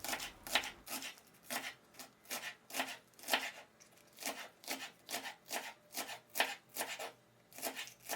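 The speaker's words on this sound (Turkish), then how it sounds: "Mümkün olduğunca ince şekilde kesiyorum." A knife chops fresh green onions as finely as possible on a board, giving a quick, steady series of crisp, close cuts, about two per second, with no talking.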